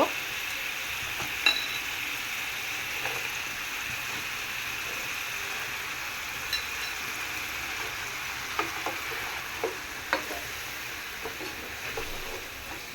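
Loitta dried fish with turmeric, chili, salt and jackfruit seeds sizzles steadily in a pan, with a spoon scraping and clicking now and then as it is stirred; no voices.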